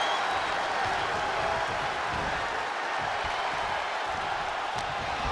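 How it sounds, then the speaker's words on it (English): Steady roaring crowd noise from a WWE 2K24 video game wrestling match, a dense continuous cheer filling the whole stretch with no distinct claps standing out. "Luke drawing a big reaction from the crowd."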